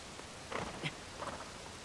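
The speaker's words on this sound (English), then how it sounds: "yeah, it is raining right now, but still." Rain falls in the video game Tears of the Kingdom, a soft steady hiss with a few brief louder bursts, faint and without voices.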